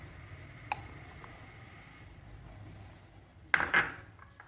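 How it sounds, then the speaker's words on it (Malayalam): Cut beetroot pieces dropped into a mixer grinder jar, a small clink at first and then a louder clattering tumble of pieces hitting the jar, close and with no talking. "മിക്സിയുടെ ജാർ എടുത്തിട്ട് അതിലേക്ക് നമ്മൾ ഈ കട്ട് ചെയ്ത് വെച്ചേക്കുന്ന ബീട്രൂട്ട് ഇട്ട് കൊടുക്കാം."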